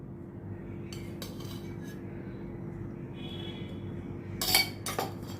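Spoon stirring flour and ghee together in a small bowl, faint scraping and clinks close by with a sharper clink burst near the end, over low steady background hum.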